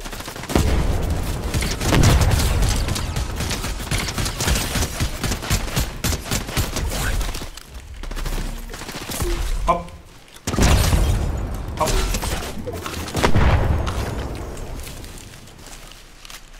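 Gunfire in the Fortnite video game rattles out in rapid bursts and single shots with booming impacts and footsteps, broken by short pauses, while a person talks over the action.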